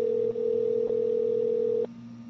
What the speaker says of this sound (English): it sounds like someone's phone is ringing